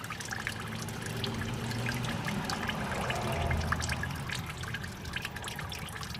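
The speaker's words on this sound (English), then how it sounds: "now I'm getting a drip over here" Water trickles and drips steadily from the radiator of a 2005 Chrysler Pacifica being drained, a continuous close splashing dribble with no talk.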